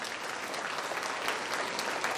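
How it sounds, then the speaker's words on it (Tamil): An audience at a school annual day function claps loudly in a dense, steady burst of applause. It sounds close and continuous for the whole moment. "அவங்க எல்லாருக்கும் நல்ல ஒரு பெரிய கைத்தட்டல் கொடுங்க"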